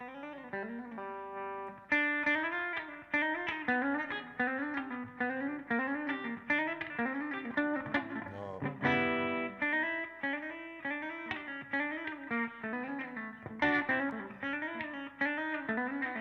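An electric guitar lick played live through effects, with bright distorted notes repeating in a steady, flowing pattern, loud and close with no talking over it.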